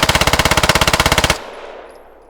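A PPSh submachine gun in the game Squad fires a rapid, loud burst of about twenty evenly spaced shots, then stops and leaves a fading echoing tail.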